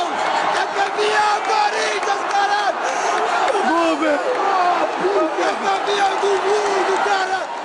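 Corinthians supporters fill a stadium with a dense, continuous roar of chanting and shouting voices, loud and sustained throughout the clip.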